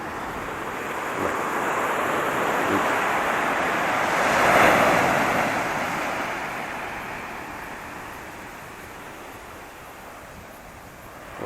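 Sea waves break on the shore where the water swirls, making a steady wash of surf mixed with wind that swells to a peak midway and then slowly subsides.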